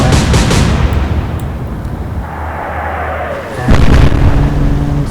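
Heavy naval gunfire from a warship in the Atlantic Fleet video game, a loud booming salvo with a rumbling low tail and a second blast near the end, no voices over it.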